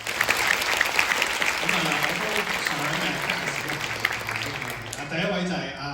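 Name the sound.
theatre audience applause at curtain call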